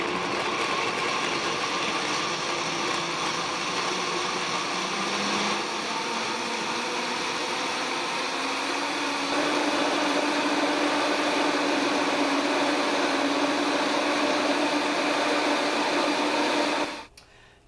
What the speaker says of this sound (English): Now you're going to increase the velocity of the blender slowly.